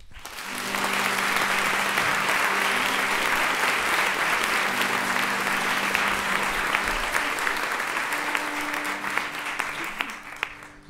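A live audience at a storytelling evening bursts into sustained, dense applause that holds steady for about ten seconds before tapering slightly at the end.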